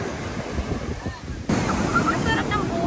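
Ocean surf breaks on the shore at a beach, a loud continuous wash of waves with gusting wind buffeting the microphone and a sudden surge of water partway through.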